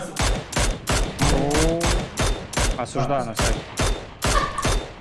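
Gunfire in a video game comes as a rapid, regular string of loud shots. A voice speaks briefly partway through.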